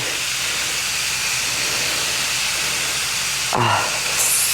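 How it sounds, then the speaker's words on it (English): Herbs and spices sizzle in a cast iron skillet with a loud, continuous close hiss, broken near the end by a brief knock of the pan, with no one speaking. "That herbs and spices hitting that cast iron skillet"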